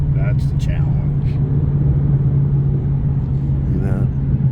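Plum Crazy muscle car at an outdoor car show, its engine idling with a steady low rumble throughout, with crowd chatter and voices over it.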